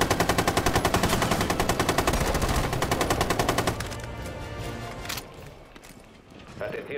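Rapid automatic gunfire in Rainbow Six Siege, a dense, loud, steady stream of shots for nearly four seconds that then cuts off, followed by quieter game sounds, a few isolated cracks, and voices talking over it.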